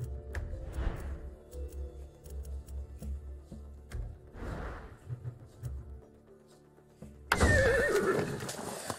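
A horse in the video game Far Cry 6 neighs, whinnying twice at moderate level over low ambient rumble, then a louder, brighter neigh bursts in near the end.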